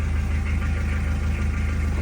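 A 2016 Mitsubishi Adventure GLS Sport engine idles with a steady, even low rumble and a faint rhythmic knock, close and constant with no voices.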